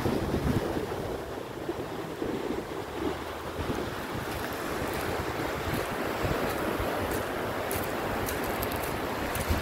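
Sea waves and wind on the Adriatic beach at Alba Adriatica under a cloudy sky, a steady broadband roar of surf with wind buffeting the microphone throughout, continuous and fairly loud, no voices.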